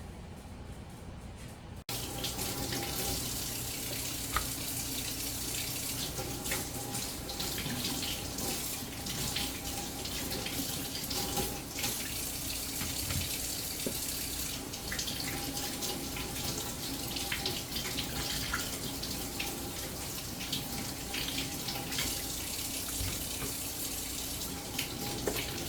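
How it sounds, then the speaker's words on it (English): Steady running tap water splashing into a sink during handwashing in a country kitchen, a continuous moderate rush that starts abruptly and holds for the whole stretch. "I'm going to go over here and wash my hands."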